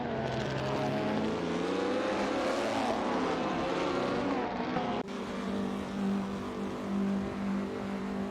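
Engines of race cars in a 1950s F1 racing video game, a loud continuous multi-engine whine with shifting pitches as cars pass close, sustained throughout with no talk.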